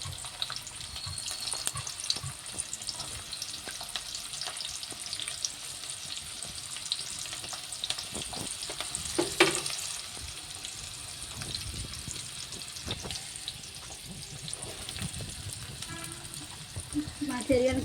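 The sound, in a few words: thinly sliced onions frying in oil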